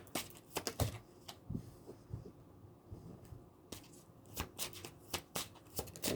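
Tarot cards shuffled by hand at close range, a run of quick crisp riffles and soft flicking snaps in uneven bursts against a quiet background.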